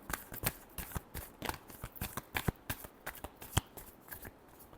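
Tarot cards being shuffled by hand, a rapid run of crisp close riffles and flicks in an uneven rhythm, quiet and without talk.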